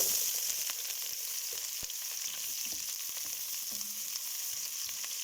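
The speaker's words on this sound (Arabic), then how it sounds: "بعد ما حمسناهم راح اضيف لهم البصل" Onions fry in a pan for Iraqi-style chicken kabsa, giving a steady, close, crackling sizzle with faint stirring ticks and no talking.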